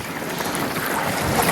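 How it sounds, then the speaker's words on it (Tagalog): Strong wind at sea during a fishing outing buffets the microphone in a constant broadband roar, with a faint wash of water beneath. "Medyo malakas ang hangin."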